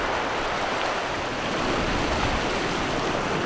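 A swollen river at Sandwood Bay rushes past in a steady, dense roar of flowing water, loud and close, with no other sounds breaking through.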